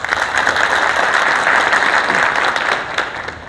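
Loud, sustained applause from an audience of site workers at a training session, dense steady clapping filling the whole stretch before tapering slightly at the end.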